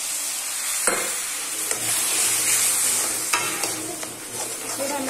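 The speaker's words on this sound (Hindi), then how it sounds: "फिर हम इसमें ये जो इमली का पल्प है ये डालेंगे" Coriander frying in a pan as tamarind pulp goes in, a steady close sizzle with a few sharp stirring scrapes, heard alone without talk.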